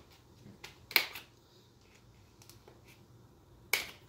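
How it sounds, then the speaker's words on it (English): Small cutters snipping the plastic tangs of a car speaker in a 2015 WRX, a few sharp, isolated clicks close by in an otherwise quiet space, two louder snaps spaced well apart. "I just got some little cutters, and we're just gonna cut"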